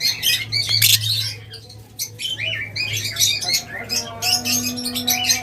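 Lovebirds, including egg-laying females in a wholesale shop, squawking and chirping loudly in shrill overlapping bursts, close by and continuous over a low background hum.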